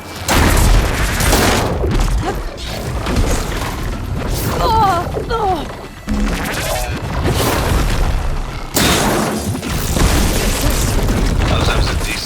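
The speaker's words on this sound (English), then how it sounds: "Oh, it looks like they're giving us some supporting fire!" Supporting gunfire and heavy explosions in a battle in the video game Horizon Forbidden West, loud repeated booms and crashes over a constant roar, with shouted voices and brief musical tones mixed in.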